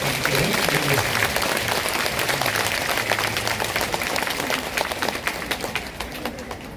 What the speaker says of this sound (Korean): 다시 한번 감사의 큰 박수를 총무원장님께 드리겠습니다.